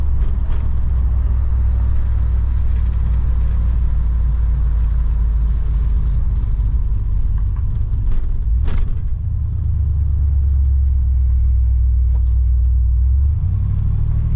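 A 1964 Oldsmobile 98 engine drones steadily while driving, a loud low rumble throughout with a brief dip and bump partway, and no voices.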